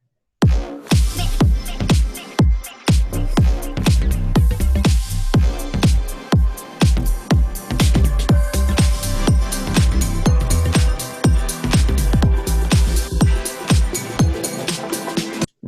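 The intro of an electronic music track plays back loud and full, driven by a steady, punchy kick beat under layered synth textures, with no talking.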